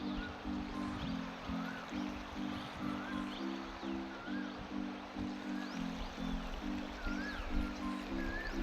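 Water flows gently in a stream beside a village bridge, a soft steady rush with birds chirping faintly above it and rhythmic music running underneath.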